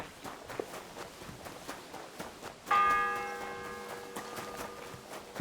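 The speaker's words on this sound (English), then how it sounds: "The fourth bell." A church bell rings in the medieval video game Kingdom Come Deliverance 2, one loud sustained strike with a long shimmering decay over soft ambient noise and footsteps.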